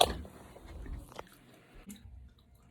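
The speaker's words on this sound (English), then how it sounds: "Sorry, I'm chewing gum, guys." Someone chewing gum close to the microphone while hanging horizontal art, giving a few wet, squishy chews that fade into quiet, with no talking.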